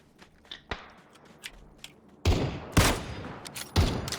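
Single shots from a Vector submachine gun in the battle-royale game PUBG: a few faint distant reports, then three loud, sharp, evenly spaced blasts with short decaying tails.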